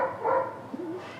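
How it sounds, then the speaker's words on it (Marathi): A dog barks and howls in the background, a couple of faint, distant yelping calls with a wavering tone, heard alone without talk. "कुत्रं भोंगत आहे, सगळं आपल्याला ऐकायला येत असतं."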